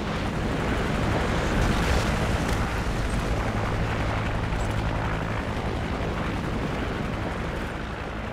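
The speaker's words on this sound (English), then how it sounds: "Friendly Predator missile inbound." A Predator missile strike in Modern Warfare 3 lands as a loud, sustained explosive roar that fills the whole stretch, with rumbling blasts and gunfire-like crackle layered over it.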